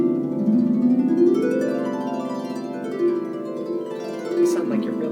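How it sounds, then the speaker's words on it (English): Glissandos on a double strung harp: bright sweeping runs of plucked strings rise and fall in several waves, with the notes ringing together in a sustained shimmer, played alone. "Great fun thing to do as a beginner or as an advanced player is Glissandos"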